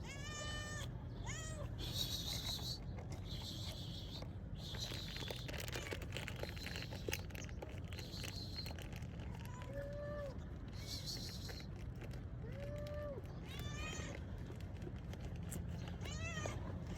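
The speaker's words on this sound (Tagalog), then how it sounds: "nagpapakain tayo ngayon ng ating mga alagang pusa dito sa ating cat feeding program." Pet cats meowing repeatedly during feeding time, many overlapping near and mid-distance cries over a steady background rustle and clatter, with some talking in between.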